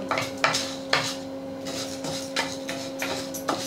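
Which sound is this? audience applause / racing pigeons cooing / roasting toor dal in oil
roasting toor dal in oil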